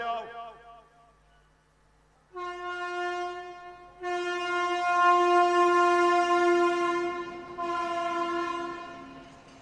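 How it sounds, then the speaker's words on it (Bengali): A passing train sounds its horn, loud sustained blasts starting a couple of seconds in and swelling louder, with a voice heard briefly at the start. "এই ট্রেন আসতে সরে যাও"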